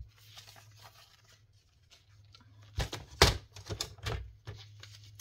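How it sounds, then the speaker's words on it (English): Scissors cut through paper pages for a handmade ephemera flip, quiet snips and rustles at first, then a burst of louder, sharper cuts and crinkles close by. "So I'm going to cut it up to this line here."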